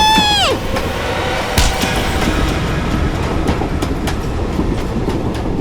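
A moving train rumbling and clattering steadily on its tracks, loud and close; a falling tonal sweep opens it and a few sharp clicks punctuate the run. No one speaks.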